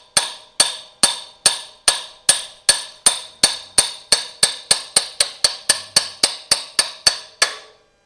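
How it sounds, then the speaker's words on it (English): A brass punch is hammered to drive a tight-fitting oil pump part onto the crankshaft of a two-cylinder John Deere DI engine, giving about twenty sharp metallic strikes in steady rhythm that quicken toward the end, close and loud. "I'm going to get my brass punch and drive that on to the crankshaft"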